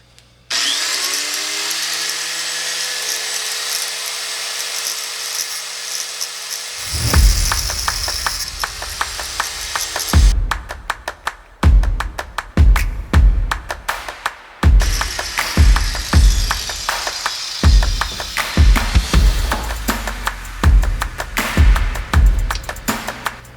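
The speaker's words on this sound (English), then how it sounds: "I'm going to cut as close as I can to this weld" A power tool cuts through the metal rod holder of a wakeboard tower close to a weld, starting with a steady whine for several seconds, then breaking into loud, choppy bursts of grinding and cutting with short pauses between them.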